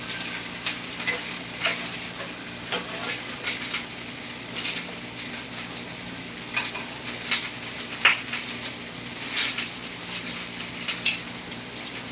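Green chiles heating in a pan while cooking meatballs in salsa verde, a steady bright sizzle with scattered crackles and pops and occasional utensil scrapes throughout, with no talk.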